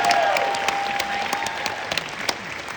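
Audience at a motivational speaking event clapping steadily after a call for applause, a broad wash of hands with scattered sharper claps standing out near and a lingering tonal hum early on.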